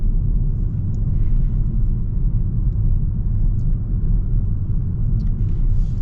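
A 2024 Hyundai Sonata driven in sport mode, heavy low engine and road rumble filling the cabin in a loud, steady drone without distinct changes.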